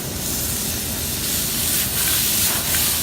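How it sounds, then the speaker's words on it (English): Butter melts in a hot pan with apples for roasted caramel apples with cinnamon and brandy, producing a continuous loud, close sizzling hiss that swells slightly toward the end. "what's happening now is the butter's starting to melt"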